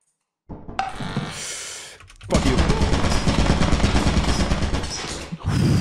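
Rapid automatic fire from a turret in the video game Lethal Company, a dense sustained burst of gunshots lasting several seconds after a shorter opening volley, loud and close with no talk over it.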